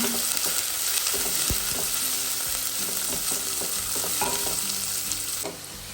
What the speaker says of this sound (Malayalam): അവരെ വെളിച്ചെണ്ണ ഒഴിച്ച് കടുക് ഇട്ടൂട്ടാ അപ്പം സവോള ഇട്ടൂട്ടാ